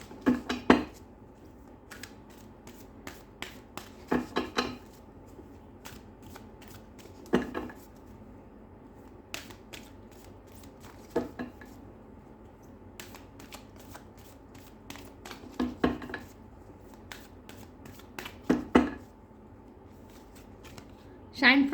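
Tarot cards shuffled in scattered bursts of crisp riffling and flicks, close and fairly quiet, with long low-level background hum between the bursts.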